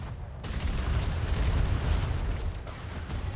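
Ship cannons open fire in a naval battle game, a rumbling volley of heavy booms that rolls on continuously and loudly with no speech over it.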